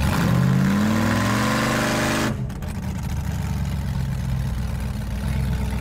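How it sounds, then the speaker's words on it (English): A cammed 4.8L LS V8 in a burnout truck running a Holley Terminator X revs up under throttle on a dyno, then drops back to a loud, lumpy idle. "Go ahead and give it a little throttle though."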